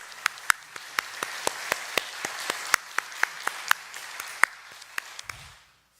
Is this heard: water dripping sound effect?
no